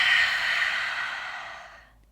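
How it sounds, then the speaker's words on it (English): A long, steady exhale of breath during an energising vinyasa yoga session, a breathy rush close to the microphone that trails off after about two seconds. "Exhale."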